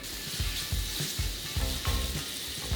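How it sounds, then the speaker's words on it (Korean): Pork belly and shrimp stir-fry together in a pan over high heat, giving a dense, steady sizzle with rhythmic scraping and clacking as the pieces are tossed and stirred close by. "그냥 센 불로 올려놓고 고기를 새우랑 같이 잘 볶아줍니다"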